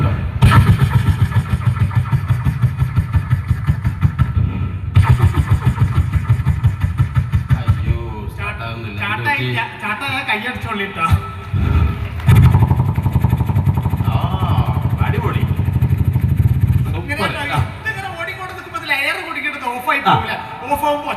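A man at a temple event in Kerala vocally mimics a generator being started, producing rapid rhythmic chugging pulses that run, pause and restart over about twenty seconds.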